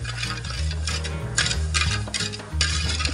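Sugar syrup for gulab jamun stirred in a pot, a steady close scraping and swishing that runs the whole time, with periodic brighter strokes over a low background hum and no talking.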